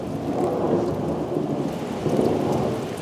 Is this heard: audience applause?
no